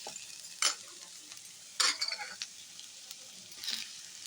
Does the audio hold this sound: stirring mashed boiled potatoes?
yes